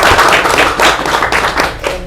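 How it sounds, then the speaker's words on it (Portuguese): Audience applause at a Brazilian patient association gathering for rare skin disease, continuous dense clapping filling the room for about two seconds with no talk over it. "Gente, isso merece uma salva de palmas?"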